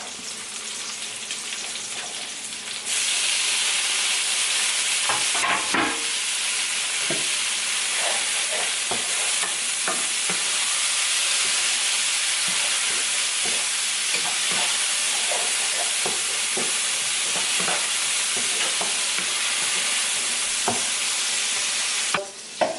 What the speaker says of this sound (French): On va mettre les oignons verts avec les oignons. Je vais tourner comme ça.